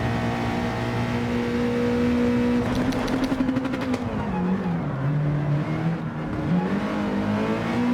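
Nissan GT-R GT3 race car engine in Gran Turismo 7, drumming loudly at steady revs, then blipping and downshifting for a first-gear corner at Sardegna, with the pitch falling in steps.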